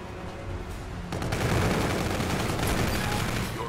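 Rapid bursts of pistol gunfire in a Call of Duty: Infinite Warfare search and destroy match, a dense crackling volley that swells after the first second and holds steady, with no voices over it.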